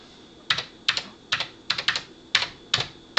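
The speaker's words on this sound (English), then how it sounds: "we would just type Run Startup, and then we press Return" An Apple IIc keyboard clacks crisply as a command is typed, giving roughly nine distinct, close, evenly spaced keystrokes, some in quick pairs, alone against a quiet background.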